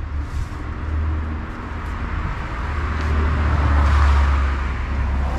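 A car passes on a road, its engine and tire noise building to a loud, close peak toward the end, with steady low traffic rumble throughout and no talking.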